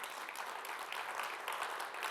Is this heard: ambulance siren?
no